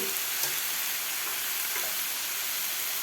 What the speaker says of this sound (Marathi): आता गॅस मोठा ठेवून आपल्याला हे भाज्या एक दोन मिनिट परतून घ्यायच्या आहेत